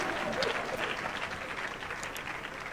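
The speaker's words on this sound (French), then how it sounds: "Est-ce qu'on peut applaudir pour lui?" An audience in a hall applauds a former Cameroon footballer seated in the front row, steady full clapping throughout the brief moment with a faint crowd murmur underneath.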